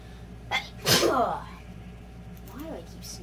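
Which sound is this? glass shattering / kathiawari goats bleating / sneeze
sneeze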